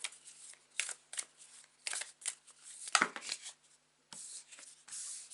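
Tarot cards shuffled by hand, a series of short riffling and slapping bursts with brief pauses between them, close and fairly quiet.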